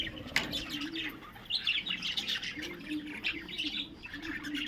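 Lovebirds chirp and squawk in rapid, overlapping bursts as a mother feeds her chick inside a pot nest. The calls are close and fairly loud, with a brief flutter of wings.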